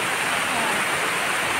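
Rainwater runs and pours heavily during a downpour, a continuous loud rushing hiss like a small waterfall, close by and steady throughout.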